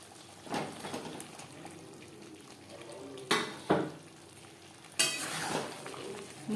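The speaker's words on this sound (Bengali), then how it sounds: "মশলার সাথে পটল বেশ ভালো করে মিক্স করে দেবো" Pointed gourd being stirred into fried spice masala in a pan, with soft sizzling under several sharp scrapes and clanks of a spatula against the metal, close by.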